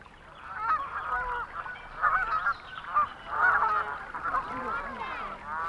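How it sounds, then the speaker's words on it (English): Geese honk repeatedly on the lake at Rufford in Nottinghamshire, in irregular overlapping bursts of nasal calls that come at a moderate distance over a quiet background. "with geese and swans alongside small flocks of domestic ducks to gladden"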